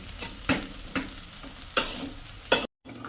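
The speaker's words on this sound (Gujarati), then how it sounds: "અને હવે આને બધાને આપણે સરસ મિક્સ કરી લેશું" Sev khamani mixture is stirred in a pan over a medium flame, with four or five distinct scraping strokes over a faint continuous sizzle, close and moderately loud, with no voices.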